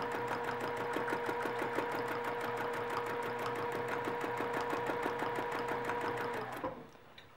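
Domestic sewing machine stitching free-motion quilting loops, a fast, steady mechanical chatter with a regular rhythmic clack running continuously for over six seconds, then slowing and stopping.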